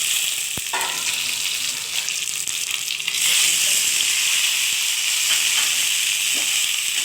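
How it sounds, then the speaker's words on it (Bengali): Potatoes frying with spices and garlic in a pan for a pointed gourd and potato curry, a steady broadband sizzle that grows louder and denser about halfway through, with a sharp tap near the start. "মশলাটার সঙ্গে ভালোভাবে ভেজে নিই।"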